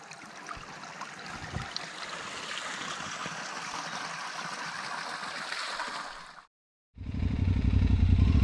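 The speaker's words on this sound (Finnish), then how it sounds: "Puhdasta vettä tulee tuolta harjun sisästä." Clean spring water pours steadily out of a ridge in a continuous close splashing rush, broken by a short silence before a louder burst of rumbling noise.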